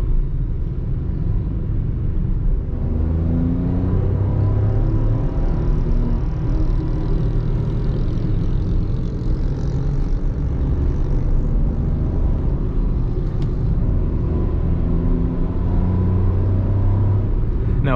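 A 2020 Ford Ka Sedan SE with a 1.5 manual gearbox runs along a highway, giving a steady low engine drone blended with road and wind rumble, constant and fairly loud with no talking.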